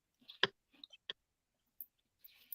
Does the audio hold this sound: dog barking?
no